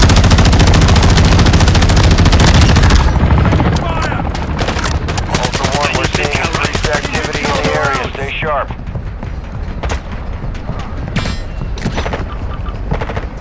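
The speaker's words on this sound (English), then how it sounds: "can you shoot the helicopter?" Rapid automatic gunfire in Call of Duty Warzone 2.0, loud sustained bursts that thin into scattered single shots, over a helicopter's rumble with voices talking throughout.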